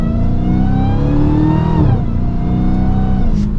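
A Dodge Challenger SRT Hellcat Redeye engine accelerates hard during a test drive, a loud, deep continuous roar that rises in pitch, dips briefly at a gear change, then climbs again, heard close from inside the car.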